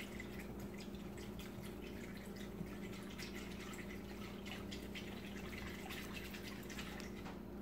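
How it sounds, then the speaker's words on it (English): A whisk stirring water and yeast in a bowl while making beignet dough, a soft steady sloshing with rapid light clinks of the wires, close and continuous under a faint hum. "you want to whisk your water and yeast until the yeast dissolves"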